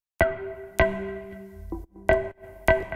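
Synth through a Portal plugin adding delay and granular artifacts: bright, bell-like tonal stabs repeat at a steady spacing, each trailing a sustained ringing tail, with a brief low buzzy burst between hits, loud and alone.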